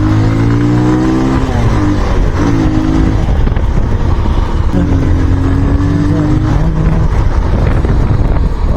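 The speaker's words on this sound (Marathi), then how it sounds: "जेव्हा आपण रेस देतो गाडीला तेव्हा असं चार पाच हजाराच्या आर पी एमवर गाडी चालते ना बघा आवाज कडक" A loud motorcycle engine revs and holds high around four to five thousand RPM, its pitch climbing and falling in a few surges, with wind rushing across the microphone.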